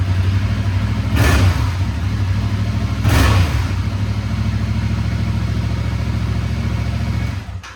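Stock exhaust on a 2022 Yamaha R7 motorcycle idling with a steady low rumble, broken by two sharp throttle blips that rise and fall quickly, heard close up and alone.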